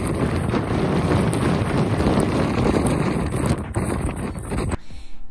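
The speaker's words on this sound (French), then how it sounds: "il y avait un vent, ce qui était assez impressionnant" Strong wind from Storm Ciara buffeting the microphone on a beach in a loud, rumbling roar that gusts steadily, then drops off abruptly at the end.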